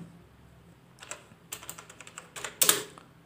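Typing on a computer keyboard, a quiet burst of close keystrokes that starts after a pause, comes in irregular clusters and ends with a sharper clack, with no voice.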